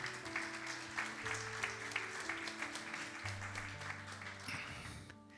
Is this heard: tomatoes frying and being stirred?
no